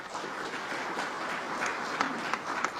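Broad crowd applause from a large audience at a public address, a steady wash of many hands clapping at moderate distance, with a few sharper individual claps standing out.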